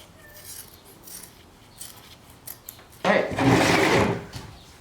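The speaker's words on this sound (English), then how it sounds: "You want to get your cloth and cut it to the size of the crack." Scissors snip through fiberglass cloth for repairing a Mitsubishi Lancer lip, a quiet stretch of faint taps and small rustles giving way to a louder, sustained rasping cut near the end.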